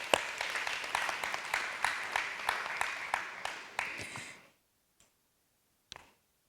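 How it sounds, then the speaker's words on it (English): Applause at a primary school renaming ceremony, a modest crowd clapping in a loose, partly rhythmic pattern of distinct claps that stops abruptly, followed by near silence and a couple of isolated claps. "let's give another big round of applause to that"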